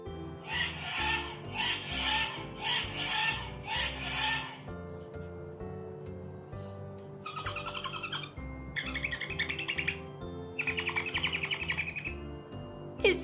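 Recorded parrot and mouse sounds play from a children's sound book: bursts of chirpy, squeaky bird calls repeat in short groups over a steady electronic background, with no talking.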